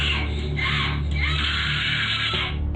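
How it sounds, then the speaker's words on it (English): A girl screams in rage at the top of her lungs, a loud, sustained, strained shriek that holds for almost three seconds with no pause, close to the microphone and dominating everything else. "She just screaming in rage at the top of her lungs."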